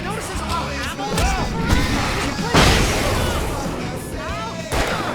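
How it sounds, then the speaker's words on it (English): Fireworks booming in the Alan Wake video game, several loud bursts and crackling pops spread across the moment, mixed with whistling trails and a voice talking over them. "I can set off more of the fireworks from here and help you out!"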